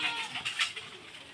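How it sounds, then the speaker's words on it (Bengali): Crested pigeons cooing nearby, a few soft throaty coos over faint background noise. "দেখো আমাদের পায়রা, দেখো আপলুক পায়রা"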